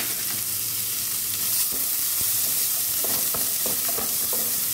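Chopped onion and green chilli pieces fry in a pan with a steady sizzle, punctuated by scraping and stirring clicks from a utensil in the latter half, heard close with no voices.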